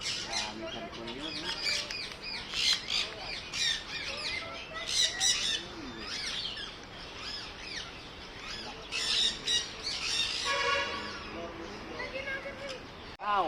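An Indian ringneck parakeet gives repeated loud, harsh squawks and chirps in bursts at close range, with a human voice heard at times between calls.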